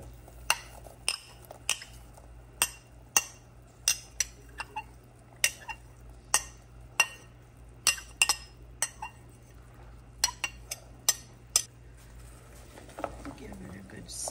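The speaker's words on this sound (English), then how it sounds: "Give it a good stir." A spoon clinking repeatedly against a pot while stirring apple cranberry sauce of sugar, applesauce and cranberries, sharp metallic taps in an irregular rhythm over a low steady hum from the stove.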